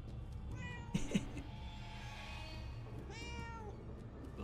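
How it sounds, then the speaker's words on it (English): A cat in a video game meows several times, with two brief bright calls early and a longer wavering meow later, fairly close over quiet ambient game sound, with no talk. "Shoot, cat, get out of here."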